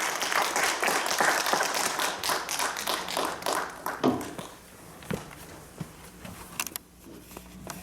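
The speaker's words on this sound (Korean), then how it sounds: "50분 만에 이렇게 강의를 깔끔하게 끝내주신 김용만 의원께 다시 한번 박수 부탁드립니다." An audience applauding at the end of a lecture in a hall, with dense clapping at first that thins out and fades to scattered claps.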